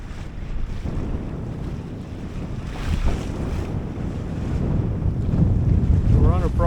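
Strong wind of about 20 knots buffets a sailboat on a broad reach under shortened sail, a continuous rushing, blustery noise over the microphone with water washing along the hull, rising toward the end.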